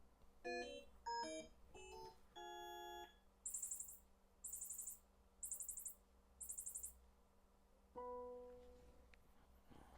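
Calibration test tones from a Sony Bravia Theater Bar 9 soundbar: a sequence of short stepped beeps and tonal chirps, then four bright rhythmic high-pitched bursts, and a final sustained tone, all fairly quiet.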